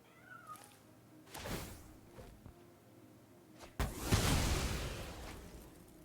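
A kitten meows in the MTG Arena digital card game, a short cartoonish cry among soft whooshing game effects, with a brighter swelling burst near the end.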